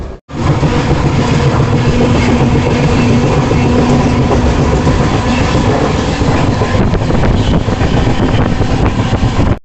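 Yoga Express passenger train rolling on after leaving Khediyar station, heard from inside as a loud, continuous rumble with rhythmic wheel clatter and wind noise for nearly ten seconds, no talking.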